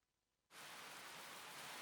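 Gentle rain in the video game Fate/Extra, beginning abruptly after a near-silent moment and then hissing steadily and evenly, a soft wash of falling drops with no voices.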